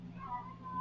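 A pet cat gives a short, drawn-out meow indoors, faint and slightly distant, over a low room hum.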